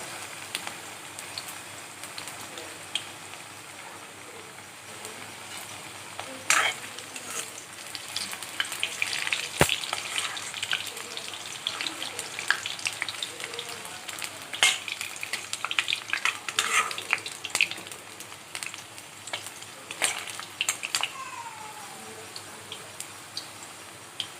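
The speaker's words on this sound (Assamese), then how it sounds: "তেলখিনি ভালকৈ গৰম হোৱাত মই এতিয়া ইয়াতে দি দিছোঁ আলু" Potato pieces fry in hot mustard oil over medium heat, giving a steady close sizzle broken by repeated scraping stirs of a utensil against the pan, with no voices.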